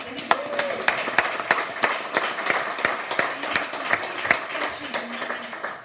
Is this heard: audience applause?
yes